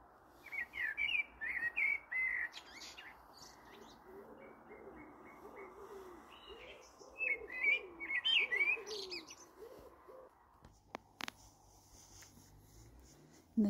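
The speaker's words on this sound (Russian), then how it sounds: "Послушайте, как птички поют." Birds sing on an early June evening near Oslo, with repeated chirps and whistles near and far, a soft cooing in the background, and a brief clatter near the end in an otherwise quiet setting.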